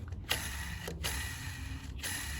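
A dry, scratchy mechanical whir as an ungreased Toyota Corolla clutch release bearing is spun by hand, with a few rhythmic clicks and a grinding rasp, close and quiet.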